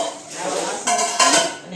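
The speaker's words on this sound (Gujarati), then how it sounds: "ઉટકી રહી છું અત્યારે વાસણ" Metal pots and dishes, including large cooking pots, clatter and scrape as they are scrubbed, with louder bursts of clanking toward the end, fairly close.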